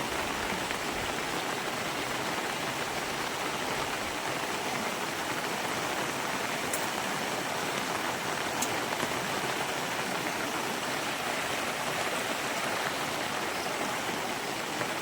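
Heavy rain pours down at a ghat as a dense, continuous, loud hiss of falling water lasting the whole stretch, with no voices.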